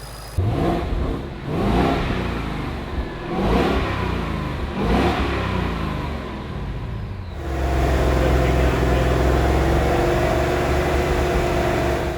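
Heavily damaged Roush Mustang on a dyno, loud close engine revving in repeated rising pulls, then settling into a sustained steady roar.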